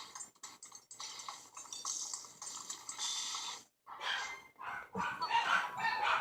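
Dogs barking indoors with a run of sharp, irregular barks that builds to louder bursts toward the end, with some clatter and rustling in the background.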